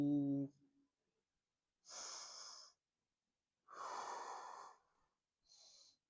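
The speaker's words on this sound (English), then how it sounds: "Breathe." Slow, deliberate breaths during a Kinstretch full-body recovery exercise: three separate airy exhales or inhales, each lasting about a second, with quiet pauses between them and a brief voiced sound at the start.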